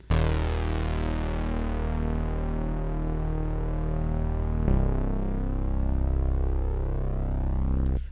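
A fat synth bass patch built from stock sounds in Ableton Live, a sustained buzzy tone whose filter cutoff sweeps steadily downward, dulling the upper harmonics while the low note holds loud and alone, with a brief retrigger midway.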